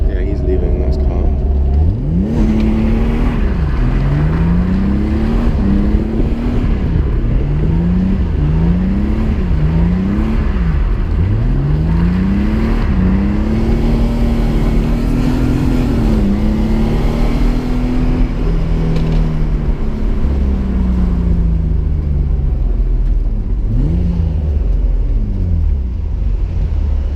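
BMW E36 accelerating hard in second gear, engine note rising and falling through repeated revs and gear pulls, loud and close from inside the car, with a driver talking over it.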